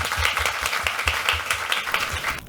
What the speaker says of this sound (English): So can we please give another huge round of applause?